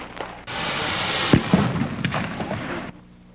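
A firecracker bursts with a sharp loud crack, followed by a run of smaller pops and crackles over a sustained hiss that cuts off abruptly near the end.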